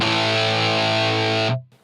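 A loud, sustained distorted electric guitar chord through a Line 6 HX Stomp rings dry with no reverb, then cuts off abruptly into near silence.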